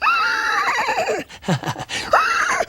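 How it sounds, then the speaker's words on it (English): A horse whinnies with a wavering, shrill neigh, then breaks into snorting bursts before a final rising squeal, loud and close. "Horse. Horse. Horse. Horse."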